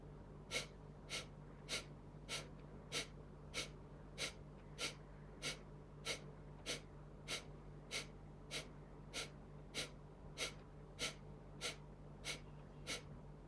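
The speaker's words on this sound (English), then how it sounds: "Now do 21 Kapalbhatis after one abdominal breath." Rapid, forceful Kapalbhati breathing exercise: a steady train of about twenty sharp nasal exhalation puffs at a brisk even rhythm, close and fairly quiet over a low background hum, with no talking.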